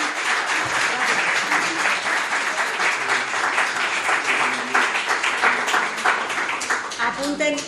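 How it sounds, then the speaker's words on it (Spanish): Steady, dense applause from a large audience at a conference fills the whole stretch, with a few voices talking underneath toward the end. "Un aplauso, por favor, para Ana Rosa."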